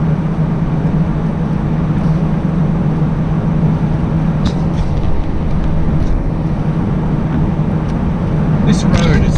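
A car engine holding steady at around 2,500 revs while driving, a constant low drone with road and wind noise underneath, loud and continuous, with someone speaking over it.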